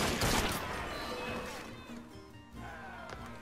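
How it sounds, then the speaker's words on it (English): Gunfire in a video game crackles in rapid bursts with loud shots near the start, mixed with game noise and a voice talking. "I can't tell who was shooting at who."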